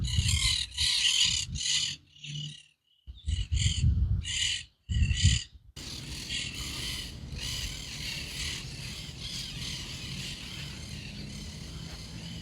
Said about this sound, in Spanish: El solo hecho de encontrarnos con estas aves valió la pena toda la visita.